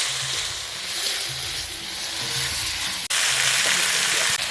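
Spices sizzle loudly in a pan with onion, garlic and ginger paste for a broccoli and mrigal fish curry, a constant close hiss with rhythmic low scraping of stirring and a brief dropout partway through.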